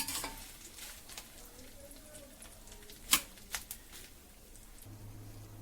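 Curry leaves fry in hot oil for a spicy snacks mixture, giving faint, scattered crackling and a few sharper pops over a low steady hum.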